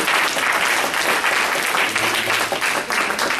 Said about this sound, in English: Clap your hands and say thank you.